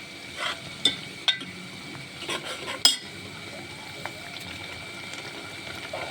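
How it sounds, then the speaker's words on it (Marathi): A spoon stirs tomato gravy with toor dal in a pan, giving a few sharp metallic clinks against the pan over a low, steady background of faint sizzling. "आता चांगल्या प्रकारे कलसून घ्यायचं आहे"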